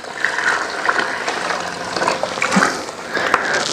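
Water pours and gushes over the fill around a grease trap on a construction site, a close, steady splashing wash with small bubbling surges.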